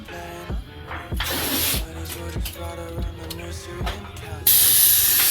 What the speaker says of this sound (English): Let's get up here and spray some stuff.